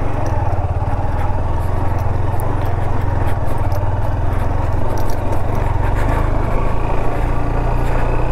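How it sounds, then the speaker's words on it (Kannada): Motorcycle engine thrumming steadily and close throughout while riding over a rough, broken road, with faint scrapes and rattles riding on top of the continuous low drone. "ಬೈಕಲ್ಲಿ ಸ್ವಲ್ಪ ಡಿಫಿಕಲ್ಟಿ ಇದೆ ಇಲ್ಲಿ, ಯಾಕಂದರೆ ರೋಡ್ ಸರಿ ಇಲ್ಲ ನೋಡಿ"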